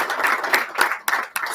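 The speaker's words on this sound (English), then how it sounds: "Please, can we clap for Hi?" A short burst of clapping from a small group, scattered and uneven, fading out after a second or so.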